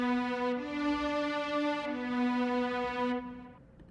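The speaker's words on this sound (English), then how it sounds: "Without the plugins, the strings just sound like this." Sustained string chords from the Strings Romantic preset of the Fuego VST, played dry without effects: a rich harmonic tone shifting pitch twice, fairly soft and clean, fading out at the end with no voices.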